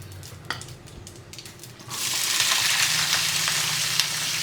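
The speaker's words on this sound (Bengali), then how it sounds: "এখন আলু ভাজিটা চুলায় দিয়ে দিচ্ছি" Potato bhaji hits hot oil on a home stove, quiet kitchen noises giving way to a loud, steady frying sizzle that continues close by.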